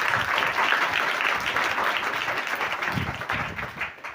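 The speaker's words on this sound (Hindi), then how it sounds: "और अपने खुदा के लिए अच्छी तालियां हो जाए।" Steady, full applause from a church congregation fills the whole stretch, loud and dense with no voices breaking through, fading slightly at the very end.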